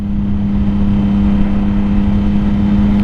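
A sport bike engine running with a steady, loud hum and a strong constant tone, close by. The bike is a 2006 Triumph Daytona 675 or a 2007 Yamaha YZF R6, with no clear rise in revs.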